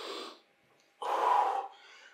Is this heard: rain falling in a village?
no